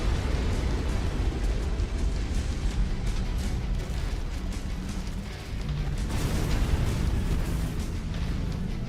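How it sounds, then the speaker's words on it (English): A mech blowing up in MechWarrior 5: Mercenaries, heard as a dense, sustained roaring blast with crackling debris that briefly dips midway then surges again, loud and continuous. "That was a big explosion."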